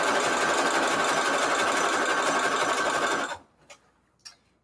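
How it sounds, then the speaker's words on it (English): A sewing machine stitches around a fabric junk journal page in a steady, fast whir for about three seconds, then stops, followed by a couple of faint clicks. "Is I'm sewing around the actual page."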